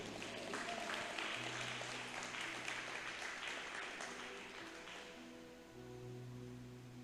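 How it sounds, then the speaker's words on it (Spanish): Church congregation applauding at a Spanish-language service, a steady wash of clapping with sustained tones from instruments or voices underneath, fading slightly toward the end. "Denle un fuerte aplauso al Señor."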